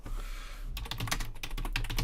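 Rapid clatter of keys on a computer keyboard, close and steady, starting after a brief pause and continuing as a busy run of typing without speech.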